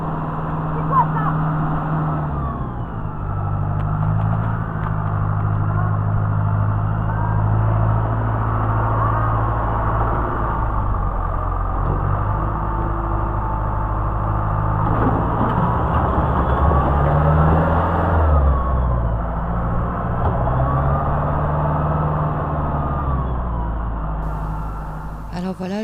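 A farm tractor's engine drones steadily and loudly throughout, with low rumbling harmonics and shifting pitch as it works, while people talk over it.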